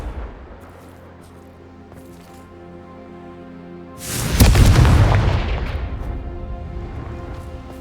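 A Confringo blasting spell erupts in Hogwarts Legacy, a sudden loud booming explosion about halfway through that rolls off into a long rumbling decay over a low steady drone.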